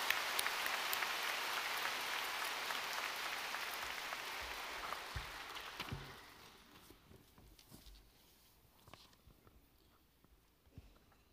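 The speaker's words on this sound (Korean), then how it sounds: "우리 주님께 영광 돌리고 큰 박수로 맞이합니다." Audience at a church service applauding to welcome a visiting pastor from France, dense sustained clapping that fades after about six seconds, leaving scattered claps and room noise.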